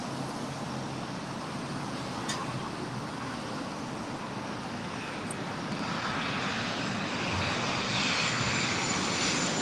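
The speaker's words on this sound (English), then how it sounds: "up next, Air China 777-300ER, now all lined up, ready to go on 25 right." Boeing 777-300ER jet engines of an Air China airliner roar steadily on the takeoff roll at an airport, a broad distant rushing that swells slightly toward the end.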